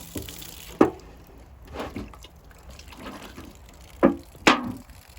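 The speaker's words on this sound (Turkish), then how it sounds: "içindeki suyu boşaltıyorum" Water spills out of an upturned beeswax mold, heard as a few sharp splashes and drips spaced out over several seconds against a quiet background.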